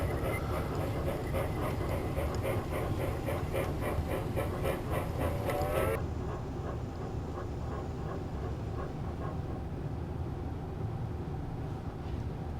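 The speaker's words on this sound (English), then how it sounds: "Now the train's pulling into the town of East Waterford, and we'll make a stop at the station." Narrow gauge model railroad train pulling into a small-town station on a layout, a steady rumbling run with rhythmic clicking that abruptly drops to a quieter hum as it slows, close and alone.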